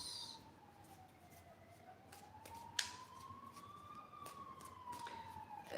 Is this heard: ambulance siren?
yes